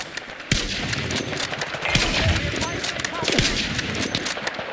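Rapid bursts of automatic gunfire from the video game Warzone crackle repeatedly, with sharp cracks and rattling volleys over a busy background and faint talk.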